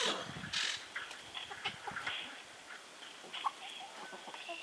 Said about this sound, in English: There are so many kinds of birds and animals living right in the wilderness in our very backyard